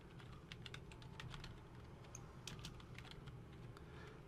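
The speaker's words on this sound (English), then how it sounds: "I'm going to type the teacher's name" Rapid, uneven clicks of keys being typed on a computer keyboard, steady and close, with no voices over the tapping.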